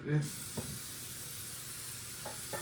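A can of plain baking spray coating a loaf pan for a breakfast fruit loaf: short, faint hissing spurts, spaced apart, over a quiet room tone.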